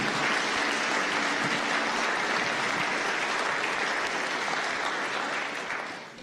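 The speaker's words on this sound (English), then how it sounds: "can we get a round of applause for our panelists?" A crowd at a water summit applauds its panelists with dense, sustained clapping that stays loud and even, then begins to fade toward the end.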